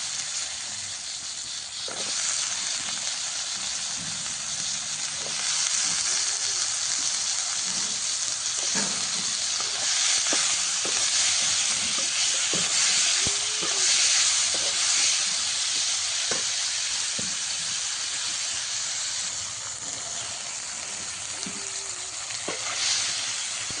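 Tomatoes cooking in a pan for a raw tomato chutney, giving a steady, close sizzle and hiss that continues without a break, with a few faint clicks and no talking.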